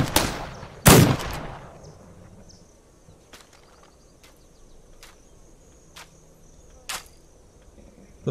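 Gunfire in the survival game This Land Is My Land: one loud, close shot, then scattered sharp, fainter shots spaced seconds apart over a steady chirp of crickets and insects.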